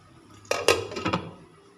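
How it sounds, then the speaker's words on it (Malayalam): A lid going onto a cooking pot of Kerala-style beetroot kichadi, a short cluster of metallic clanks and clinks, three or four quick knocks close by, with no talk. "ഇനി അപ്പാടെ ഇളക്കി കൊടുക്കാതെ നമുക്കൊന്ന് മൂടി വയ്ക്കാം."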